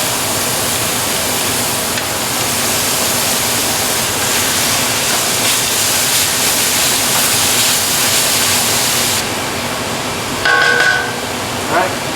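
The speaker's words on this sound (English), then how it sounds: "So I got about 8 pounds of beef in the pan." About eight pounds of beef browns in a pan with a loud, dense, continuous sizzle like rushing water. It eases briefly near the end, where a short tone and faint voices cut in.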